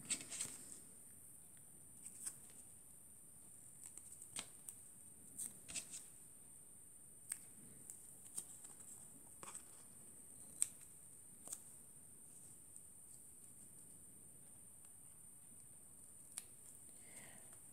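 Scissors cutting paper for a handmade men's birthday card, quiet close snips and paper ticks scattered irregularly over a faint steady background hiss, no talking.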